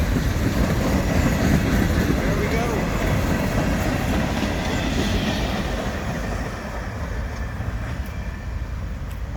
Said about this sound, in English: Not a bad train.